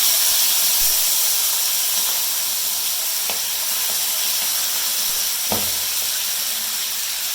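Chettinad-style chicken pieces fry in hot oil, a loud, steady hissing sizzle with a steamy wash, plus a couple of brief clanks or stirs, near and uninterrupted by speech.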